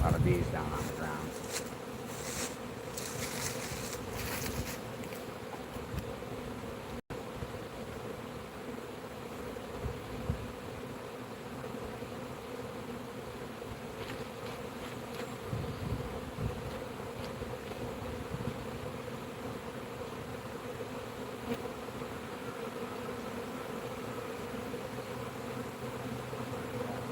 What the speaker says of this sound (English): A lot of bees down on the ground.